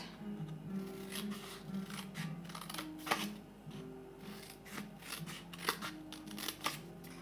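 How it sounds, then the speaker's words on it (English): Paper being cut with scissors for a scrapbooking banner, a series of soft, close snips and rustles with a few sharper clicks, quiet throughout with no talking. "I'm going to cut that."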